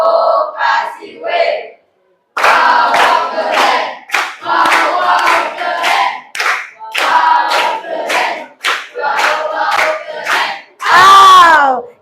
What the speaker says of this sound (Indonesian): Iya, kasih tepuk tangan untuk Nila